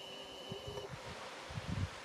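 Bees fly around a cedar hive on a November day, faint buzzing passes near with soft bursts of rustling in light wind outdoors.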